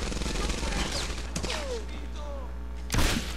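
Rapid bursts of World War II gunfire in Medal of Honor Airborne crackle up close in a dense fusillade, a louder shot punching through near the end, while a player talks over the action.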